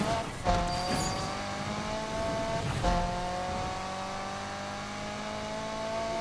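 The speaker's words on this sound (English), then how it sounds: "Yo, this car sounds excellent, man." A car engine in the racing video game Need For Speed Unbound revs steadily with sustained harmonic tones, with brief louder surges of acceleration and no talk over it.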